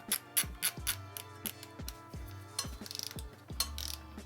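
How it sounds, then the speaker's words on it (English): A torque wrench ratchets as it tightens the front wheel pinch bolts on an e-moto, with a 5 mm bit fitted: bursts of rapid mechanical clicks come close and loud, broken by short pauses and the odd metallic clunk. "I have my torque wrench set to 10 Newton meters"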